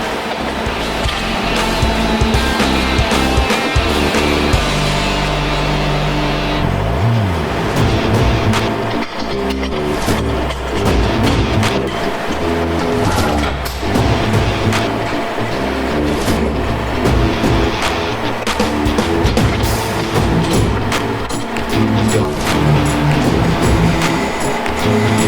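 An M7 NC-4255Q air impact wrench fitted with a torque multiplier breaks a bolt at around 1,700 Nm, a loud, relentless rattling hammer and pneumatic roar sustained for the full stretch, very close and alone.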